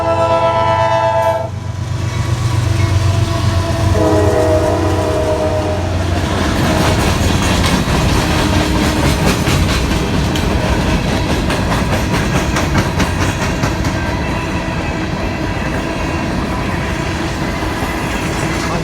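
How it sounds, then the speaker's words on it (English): A long freight train rolls past in Princeton, Indiana, its horn sounding early before the continuous loud rumble and clatter of railcars carries on steadily to the end, with no talk. "It's a lot longer train than I thought it was going to be."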